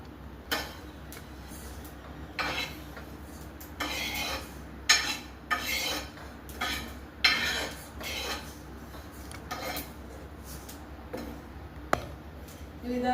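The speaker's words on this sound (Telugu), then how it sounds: "నువ్వులను ఈ విధంగా వేయించుకోవాలండి. గ్యాస్ సిమ్లో పెట్టుకొని లైట్గా దూరగా వచ్చేలాగా ఒక 5-10 మినిట్స్" Sesame seeds roasting in a pan on a low gas flame, stirred with a utensil, giving repeated scraping and clinking bursts at an irregular rhythm over a quiet background hum.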